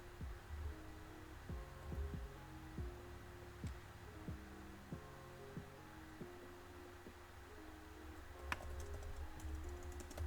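Fast, irregular clicking of keys on a computer keyboard, steady and fairly faint, with a low hum underneath and no talk.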